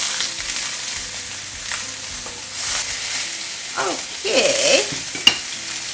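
Fish searing and frying in a hot pan, a steady close sizzle with scraping and turning sounds as it is flipped, and a brief word spoken over it.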